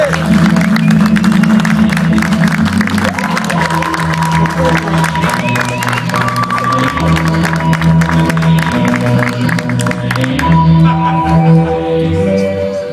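An audience at a two-tone music presentation in a village gives loud, sustained applause and cheering, a dense wash of clapping layered over music that carries on underneath.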